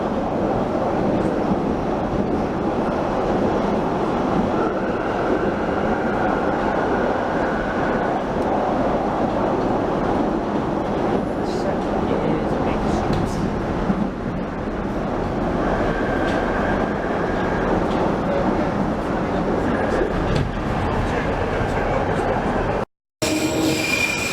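A London Underground Jubilee line 1996 stock train at Charing Cross, a continuous loud rumble of wheels and carriage with faint squealing tones and occasional clicks, no talking, ending in a sudden brief cut.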